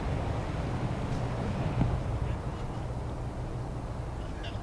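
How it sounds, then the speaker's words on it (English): Wind buffets outdoors at a disc golf tournament in Gainesville, Florida, as a steady, low, rushing rumble across the microphone that persists throughout with slight gusts. "I'm surprised they're all rolling in this wind, but it has died down a little bit."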